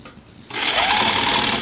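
After a brief quiet moment, a sewing machine starts stitching a Y back racer tank top, running with a steady, fast, close-up mechanical whir.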